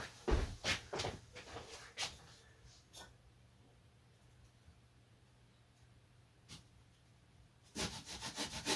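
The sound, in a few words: cutting a chunk of foam away from wing fairing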